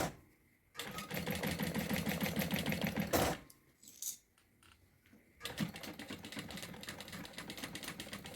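A sewing machine stitches a synthetic-leather bag, running in bursts of steady mechanical whirring with a pause in the middle before restarting, close and fairly loud.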